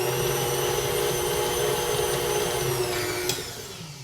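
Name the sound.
stand mixer mixing pie dough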